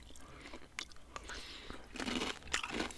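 Froot Loops cereal crunched close to the mouth, quiet irregular crisp bites and chewing crackles with small pauses between them.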